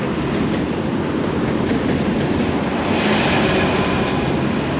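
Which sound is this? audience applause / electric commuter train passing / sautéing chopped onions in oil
electric commuter train passing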